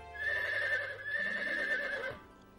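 Neighing from a mare, one drawn-out whinny with a quivering, wavering pitch that tails off after about two seconds, moderately close and with no talk over it.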